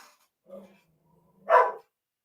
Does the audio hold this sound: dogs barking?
yes